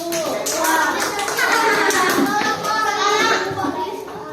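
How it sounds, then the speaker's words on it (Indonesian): A classroom of students clapping for group 1 during a school lesson, brisk dense claps close by with children's voices mixed in, fairly loud and sustained. "Tepuk tangan dulu buat kelompok 1"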